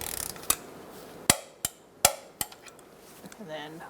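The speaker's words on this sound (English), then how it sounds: "We're going to torque this to 30 foot-pounds." A torque wrench tightens the oil drain plug on a 2004-2009 Mazda 3, giving several sharp metallic clicks spread unevenly over a few seconds, close and fairly quiet.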